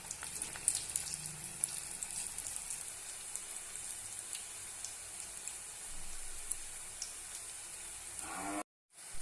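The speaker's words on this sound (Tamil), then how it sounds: "நம்ம பிடிச்சி வச்ச உருண்டைகளை இதில் பொரிச்சு எடுத்துக்கலாம்." Appalam bonda dough balls deep-frying in hot oil, a steady bright crackling sizzle running throughout at close range, cutting off abruptly near the end.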